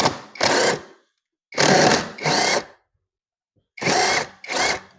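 Impact wrench driving a nut extractor onto a damaged bolt, firing in three bursts, each a pair of loud rattling hammering runs separated by short pauses.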